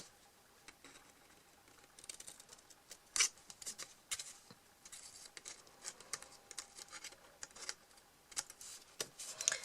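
Scissors snip through a paper pouch in a series of quiet, irregular crisp cuts and rustles, faint and close with small pauses between them.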